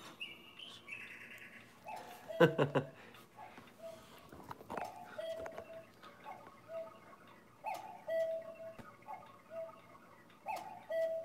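An inexpensive budget clock ticks faintly and steadily, mixed with cuckoo-like bird chirps in a quiet room, with no voices.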